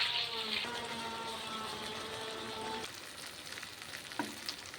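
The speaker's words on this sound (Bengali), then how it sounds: "এখন মাংসটা কষানো হয়ে এসেছে।" Pieces of country chicken meat sizzle and fry in a pan as the masala cooks down, a steady bright hiss with soft bubbling and a few stirring scrapes near the end, heard alone.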